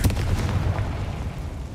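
Confringo fire spell blast in Hogwarts Legacy, a dense low rumbling burst that starts strong and rolls on steadily for under two seconds, close and loud with no voices.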